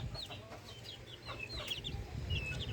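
Native chickens cluck softly on a new farm while their small chicks peep in thin, high, repeated calls, all faint and steady with no talking.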